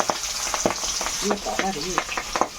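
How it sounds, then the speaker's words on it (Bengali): Hot oil sizzles and crackles steadily as oily fish fries, with sharp pops throughout and a brief murmur of a voice in the middle. "তেল গরম হয়ে গেছে, এবার মাছ ভাজা করে নেব।"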